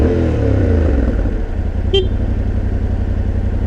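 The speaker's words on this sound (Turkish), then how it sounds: "Bak motor sesi yapıyorum." A loud motorcycle engine drones steadily up close, with a short high beep partway through.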